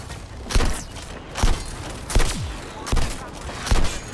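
Heavy weapon fire from a tank in the Suicide Squad video game, four or five loud booming blasts at regular intervals over a rumbling battle background.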